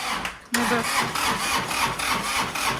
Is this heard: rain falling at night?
no